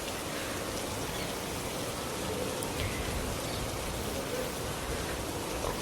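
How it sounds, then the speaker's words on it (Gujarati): Rainwater pouring down into a flooded spot in a village, a dense, even rush of water and rain that holds steady throughout without any voices. "ઉપરથી પાણી અહીંયા આવે છે ને"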